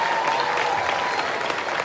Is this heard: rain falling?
no